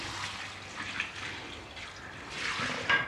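Ten liters of water poured into a large cooking pot holding ginger and garlic paste for a trotters recipe, a soft splashing, gurgling flow that swells near the end.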